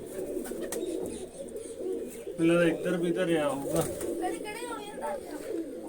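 Pigeons coo softly in a loft where three nesting pairs have laid eggs, repeated throaty coos rising over a murmuring background while a person speaks nearby.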